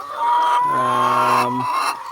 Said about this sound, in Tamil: இன்றைக்கு நாங்கள் பார்க்க போகிறது வந்து ப்ரௌன் லேயர்ஸ்